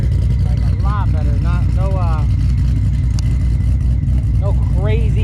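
A 2014 Ford Mustang GT500 fitted with a Magnaflow Street series exhaust idles with a steady, loud low rumble throughout, while people talk over it.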